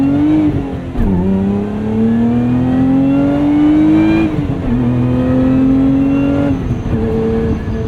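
A 2024 Lotus Emira mid-engine sports car accelerating hard, its engine note climbing steadily through the gears with brief dips at each upshift, loud and close with no talking.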